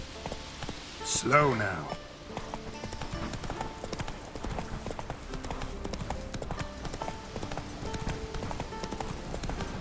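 Hoofbeats of Roach, a horse in the video game The Witcher 3, clop in a steady rhythm under game music, with a voice speaking briefly near the start.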